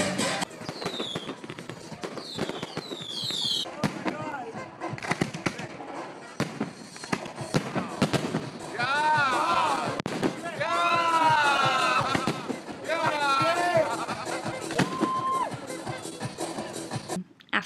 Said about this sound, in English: that's where they do the fireworks show, and the fireworks show is beautiful